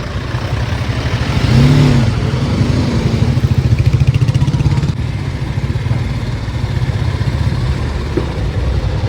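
A motorcycle creeps slowly in first gear along a hill road near a landslide area, its engine chugging steadily close by with a brief rev.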